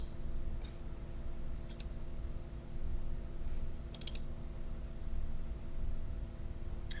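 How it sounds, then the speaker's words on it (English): Computer mouse clicks at a desk, a few faint, isolated clicks, some doubled, spread over a steady low hum of room or computer noise, no speech. "Click Run Now."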